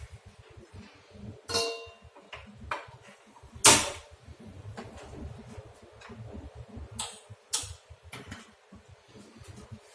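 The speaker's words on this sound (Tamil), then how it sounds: "இப்போ நம்ம அடுப்பு ஆன் பண்ணலாம்." Sharp clicks from a gas stove igniter scattered over several seconds, with a few louder snaps standing out against a faint background hum.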